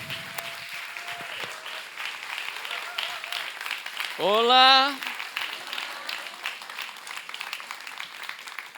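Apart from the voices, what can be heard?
applause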